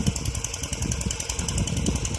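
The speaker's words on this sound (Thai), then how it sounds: "ต้นกำลัง ใช้เครื่องยนต์มิตซู 8 แรงเป็นต้นกำลังนะครับ" A Mitsubishi 8-horsepower engine powering a water pump runs steadily at close range with a rough, buzzing drone and rhythmic mechanical clatter, with no voices.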